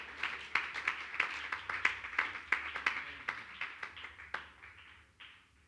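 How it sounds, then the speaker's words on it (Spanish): A church congregation applauds in praise, a burst of fairly close hand claps that peaks early and thins out toward the end, with no talking. "Aplauda al Señor en ese momento."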